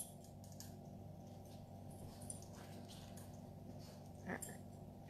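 A dog whimpers indoors with a short, thin whine near the end, set against a steady low electrical hum and faint background clatter.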